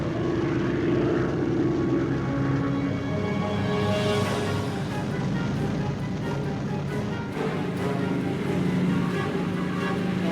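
A Boeing B-29 Superfortress bomber drones steadily in flight, its propeller engines producing a continuous loud throbbing roar that persists without break; no voices.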